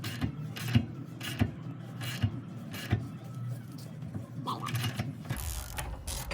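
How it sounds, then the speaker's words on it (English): A wrench tightens a 10mm H&R wheel spacer stud on an Infiniti Q50, making a series of sharp, evenly spaced mechanical clicks over a low background hum. "You can just hold the wrench and then tighten it."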